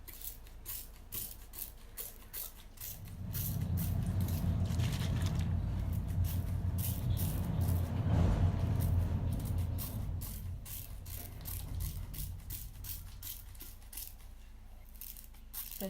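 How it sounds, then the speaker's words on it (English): A spray bottle mists rice water over hair in a wide pass, a steady run of quick sharp spritzes and clicks continuing throughout, with a fuller, louder rush through the middle stretch. "I just do like a wide spray over everything."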